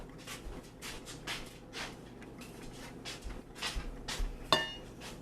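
Ingredients for a crockpot lasagna are stirred together in a bowl, giving a run of scraping, scuffing strokes at an uneven rhythm, with a brief clink near the end.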